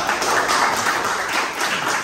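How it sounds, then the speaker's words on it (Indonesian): A classroom group claps together in a short burst of dense, steady applause, close and fairly loud, with no talking over it. "kita tepuk tangan dulu untuk kita semua"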